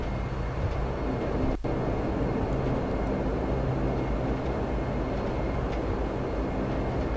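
A Dash 8 turboprop taxis to the stand on a Manchester to Glasgow flight, a steady loud engine drone with a brief sharp click partway through.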